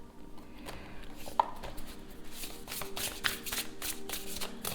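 A deck of tarot cards is shuffled and handled up close, giving rapid papery riffles and soft slaps in quick bursts against a quiet room.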